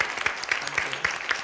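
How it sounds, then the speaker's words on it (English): Quiet, short clapping from an evening audience at a women's history museum event, applauding panelists, with a few sharper individual claps standing out over a soft, thin patter. "let's have a big round of applause for our wonderful panelists"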